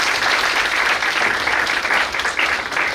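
Dense, steady applause fills the room at a civil wedding ceremony, a continuous wash of many hands clapping together at an even level for the whole stretch.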